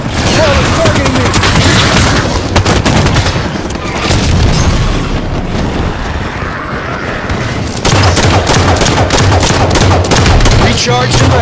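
Constant loud gunfire and grenade blasts in a Halo 5: Guardians Warzone Firefight multiplayer match, dense bursts of shots and booms overlapping with almost no let-up.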